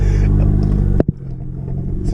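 Car engine fitted with a catless downpipe revving loudly up close, a steady roaring drone that cuts off sharply for a moment, gives a couple of pops, then settles back into a lower rumbling idle.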